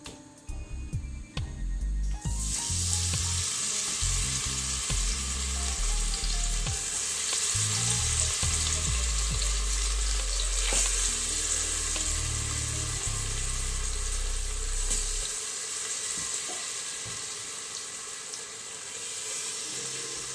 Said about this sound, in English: So I'm just browning the meat.